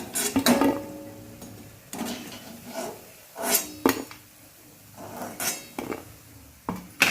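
Fried dal pakodas are lifted from the pan onto a plate, with scattered metal scrapes and clinks of a utensil against cookware, several sharp knocks spread irregularly, close and moderately loud with no talk.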